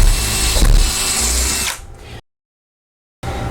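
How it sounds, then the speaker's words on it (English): A power drill with a 1/4 inch bit bores through a door, a loud steady whine with grinding for about two seconds that winds down, then silence before the drilling briefly resumes. "we're going to drill all the way from this side of the door to the outside of the door"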